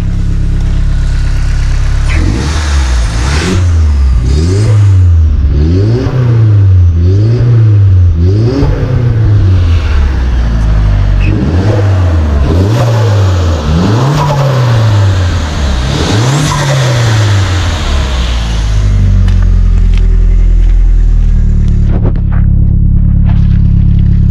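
A VW Golf 2 Turbo accelerates hard, its engine note climbing repeatedly through several gear shifts in loud, rising sweeps, heard from inside the car with steady road roar beneath.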